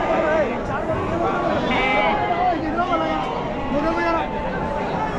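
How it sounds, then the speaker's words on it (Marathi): Many sheep bleat repeatedly at Chakan's busy livestock market ahead of Bakri Eid, close and overlapping amid constant crowd chatter and people talking. "मेंढ्या भरपूर आहेत"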